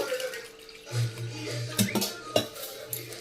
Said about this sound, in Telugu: కొద్దిగా వాటర్ పోస్తున్నాను